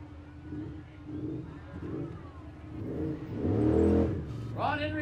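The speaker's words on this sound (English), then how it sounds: "BT Cruiser pulling that beautiful teardrop trailer." A PT Cruiser pulling a teardrop trailer in a small-town parade, its engine humming and rising as it passes nearby, with people talking over it.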